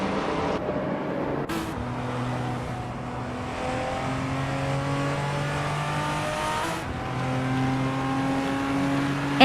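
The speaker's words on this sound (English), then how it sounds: "driving a Mercedes-Benz 190e Evo 2, a classic that's known for its balance and handling" A Mercedes-Benz 190E Evo 2 race car in a racing video game revs through rising gear pulls, its engine whine climbing steadily and dropping at each shift, loud and close, with a faint squeal in places.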